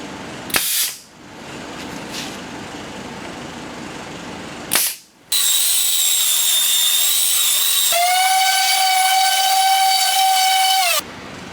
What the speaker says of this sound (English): The rest I'm just going to nail.